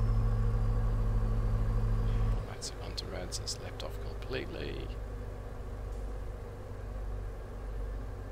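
Custom pickup engine in American Truck Simulator just after an upshift into sixth gear, a steady low engine drone that drops in pitch and settles into a quieter hum, with someone talking over it.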